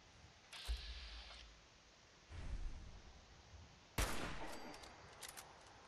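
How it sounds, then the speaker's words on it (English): A few sharp, distant gunshots crack out over a quiet background hum in Fallout 4, spaced a second or two apart, with faint electronic tones. "There is gunfire out here."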